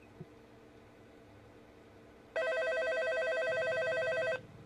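A telephone rings in a horror video game: a loud electronic ring with rapid repeated pulses lasting about two seconds over a quiet background.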